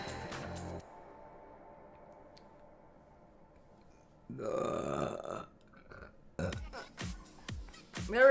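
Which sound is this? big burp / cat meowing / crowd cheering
big burp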